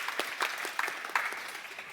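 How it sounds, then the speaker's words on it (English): Audience applause after an introduction at a talk on sustainable computing in the era of AI, a steady patter of clapping hands that carries on for the whole stretch at moderate level, with no talking. "Also, applause for Rudie."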